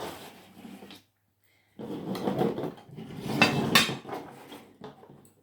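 Cutlery scraping and clinking against a plate while a steak is cut by a shaky-handed eater, with irregular close knocks and scrapes, a brief silent gap, then denser rattling clatter.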